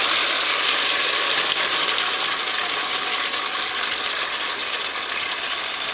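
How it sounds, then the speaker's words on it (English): Pinto beans cooking Dominican style in a pot give off a loud, steady, bright sizzle with a constant frying hiss throughout and no voices. "It's starting to sizzle."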